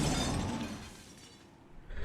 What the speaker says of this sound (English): That glass shattering should mean that somebody's inside the house.